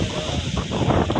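Wind rushes over the Needle Rock viewpoint in the Nilgiris, where kurinji flowers bloom, as a loud, continuous, gusty buffeting with a low rumble and no voices.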